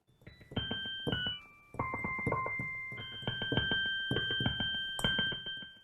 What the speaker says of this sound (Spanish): Esta jarra suena así.